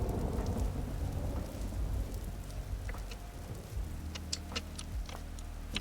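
Steady rain hisses across a Vintage Story game world while low thunder rumbles through a passing storm, dense and continuous with occasional sharper drops.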